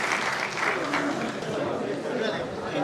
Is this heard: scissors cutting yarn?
no